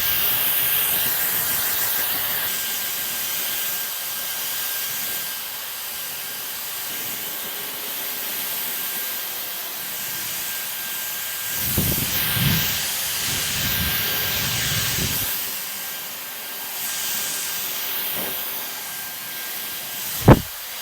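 A hair dryer blows on its lowest heat setting, a steady airy hiss running throughout with a few louder rushes of air midway, ending with a sharp click.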